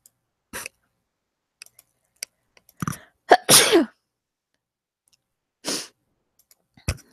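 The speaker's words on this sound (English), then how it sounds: "sorry, I just had to sneeze." A single close, forceful sneeze breaks an otherwise quiet stretch dotted with small clicks and taps.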